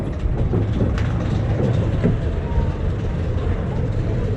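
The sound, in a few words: train running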